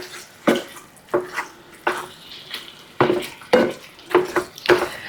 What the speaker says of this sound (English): give this meat one more smash here